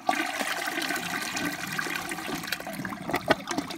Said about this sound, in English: That was the siphon. It barely even siphons at all because of how tiny that trap way is